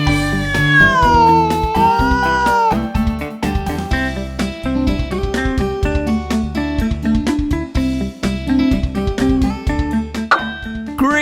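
A cat meows, though it is largely buried beneath loud, busy children's music with bright melodic tones and percussion that runs continuously throughout.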